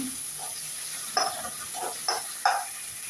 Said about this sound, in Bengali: তারপর দিয়ে দিচ্ছি এখানে পেঁয়াজ কুচি এর উপরে দিয়ে দিচ্ছি কাঁচামরিচ শুকনা মরিচ কুচি করে দিয়ে দিলাম একটু নেড়ে নেব